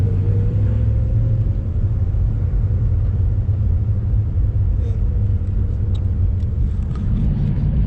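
A manual stick-shift car pulling away and accelerating through the gears, a steady loud engine rumble with a slight rise in pitch, heard from inside the vehicle.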